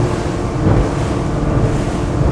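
An Axopar 28 T-top Brabus Edition motorboat at wide open throttle around 43 knots gives a steady, close engine roar mixed with rushing water and wind buffeting, with no talking.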